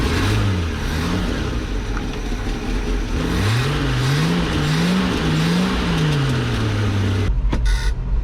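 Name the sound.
1990 Ford F600 truck engine cranking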